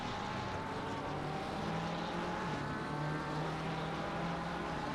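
A helicopter sound effect droning steadily in the background of an Assetto Corsa Competizione race broadcast at Zolder, a low, continuous whirring hum with a faint engine tone, distant and unchanging.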